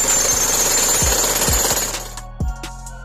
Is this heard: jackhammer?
yes